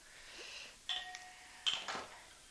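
A phone timer alarm chimes twice, faint and electronic, each tone a short bright ding that rings briefly over a quiet kitchen background.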